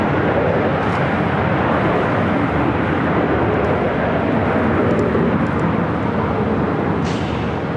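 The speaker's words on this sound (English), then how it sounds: "On the Bon Airways, Flight 5 heading back to Tokyo Narita on the 787-9 Dreamliner." An ANA Boeing 787-9 Dreamliner takes off at LAX, a steady loud broadband jet roar filling the whole stretch with no break or fade.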